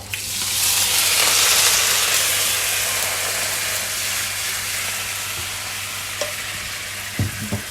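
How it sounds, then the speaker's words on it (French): Prawn carcasses being deglazed with white wine in a hot pan, giving a loud, steady sizzling hiss that swells early and then settles, with a few clinks and scrapes near the end. "maintenant ici je vais déglacer les carcasses avec du vin blanc"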